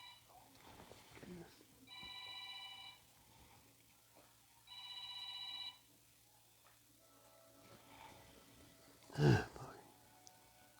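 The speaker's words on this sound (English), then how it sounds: "I was interrupted with a phone call" A telephone rings twice in two even electronic trills, moderately close in a quiet room, followed by a short loud rustle or knock.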